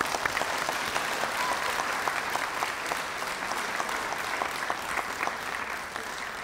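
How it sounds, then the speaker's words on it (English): An audience at a sixth grade elementary school graduation gives sustained applause, a steady wash of many clapping hands lasting throughout without a break. "Let's give him a big round of applause."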